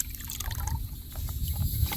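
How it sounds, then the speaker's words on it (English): Paydirt being washed with water in a gold pan: continuous sloshing and trickling of water over dirt and gravel, close and steady, swelling slightly louder toward the end, with no talking. "Wash that top dirt off."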